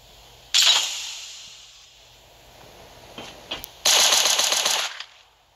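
Machine gun firing in the survival game Last Day On Earth: a short burst near the start, a few faint clicks, then a louder sustained burst of rapid shots lasting about a second, all close and without talk.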